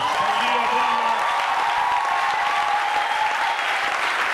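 A crowd applauds and cheers for the king at a church gathering, dense sustained clapping with scattered shouts that stays loud and unbroken from start to finish.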